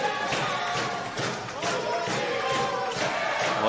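Spectators cheer and shout at a European Championship powerchair hockey bronze-medal match between Denmark and Italy after a long-range shot, a steady roar of crowd noise with thumps from the court and commentary running over it.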